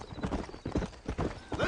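Horses clip-clop at a steady trot along a frontier town street in Red Dead Redemption, hoofbeats close and fairly loud, rhythmic over roughly two seconds with no talk.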